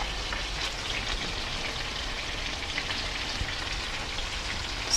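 Asparagus and green beans sizzle in a hot pan, a steady dense crackle and hiss that carries on evenly for several seconds, close and moderately loud with no talk.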